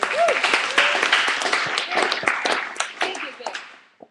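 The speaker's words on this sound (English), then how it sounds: "Let's give them a round of applause." An audience gives a round of applause for VIP guests at a live event, dense clapping running throughout while a voice carries over it, tapering off at the end.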